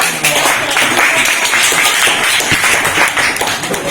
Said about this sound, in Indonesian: Dan bisa kita tepuk tangannya untuk kita semua